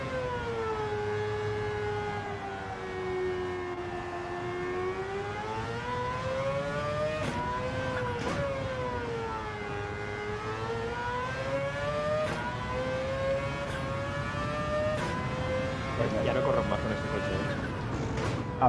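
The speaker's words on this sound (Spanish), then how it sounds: "escucho el coche volumen es muy bonito, alto" A race car engine in Gran Turismo 7 drones continuously, its pitch sliding up and down with gear changes and acceleration, moderately quiet and steady throughout.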